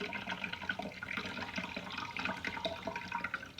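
Liquid being poured into a container while brewing kombucha, a steady splashing, trickling stream that runs loud and continuous throughout, close by and with no voices.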